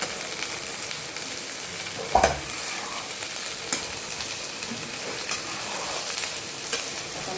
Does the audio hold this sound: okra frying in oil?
yes